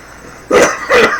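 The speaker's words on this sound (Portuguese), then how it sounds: "É uma tossinha de normal" Two short, light coughs in quick succession, close by.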